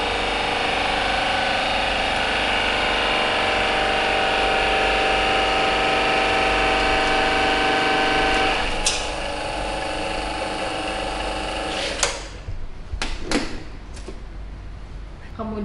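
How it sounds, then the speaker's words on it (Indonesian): Concrete compression testing machine applying load to a concrete test specimen, a steady loud mechanical hum with a constant tone, then a sharp break at about nine seconds followed by irregular clunks and knocks toward the end. "Angkat tuas beban perlahan sampai jarum merah pada dial berhenti bergerak dan jarum hitam pada dial menurun."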